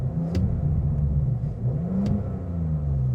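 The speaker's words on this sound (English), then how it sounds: "When you put it into the dynamic, the revs actually go up and it opens up a valve in the exhaust." A 2025 Audi S5 Prestige turbo V6 with its exhaust valve open in dynamic mode revs up close by, its low exhaust rumble rising and falling steadily, with a couple of faint clicks over it.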